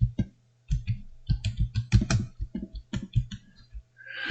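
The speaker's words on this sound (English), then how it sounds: "And yes, you hear me typing in there." Rapid clattering of keys on a computer keyboard while searching PC parts online, bursts of close, crisp clicks in uneven runs with brief pauses and no talking.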